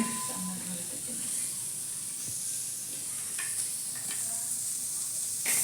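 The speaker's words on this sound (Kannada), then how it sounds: "ಏನೇನು ಹುರ್ಕೋಬೇಕು ಉಳ್ಳಾಗಡ್ಡೆ ಹಾಕಿನಿ" Onions frying for sambar in a home kitchen give a steady, close sizzle with a bright hiss throughout, broken by occasional stirring scrapes and faint clinks.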